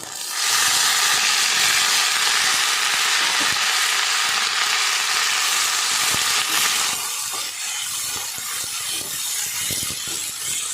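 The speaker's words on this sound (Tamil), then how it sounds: "எல்லாம் போட்டு நல்லா வறுத்துக்கிறோம். பிரண்டையும் போட்டுக்கிறோம்." Spices, dried chillies and pirandai (veldt grape) fry in a pan with a loud, steady hiss and sizzle that eases slightly partway through, with faint occasional stirring taps underneath.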